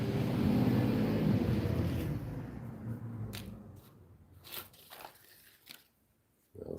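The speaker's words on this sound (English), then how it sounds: "Sorry for the noise, there's just a truck coming past." A passing truck rumbles loudly at first, its low roar fading over several seconds, followed by scattered rustling and handling noises at close range.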